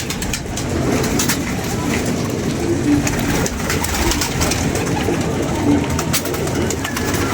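Domestic pigeons coo softly now and then beneath a loud, steady wash of rushing background noise, the low throaty calls brief and partly masked.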